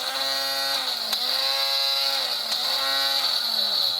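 A 12V mini angle grinder running on a recelled battery gives a steady high whine with strong harmonics, sagging slightly in pitch a few times, loud and close with no talking.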